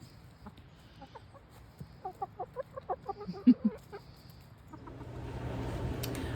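Backyard chickens cluck in a quick run of soft, close notes that build to a louder squawk, then fade as a low rustling hum rises underneath.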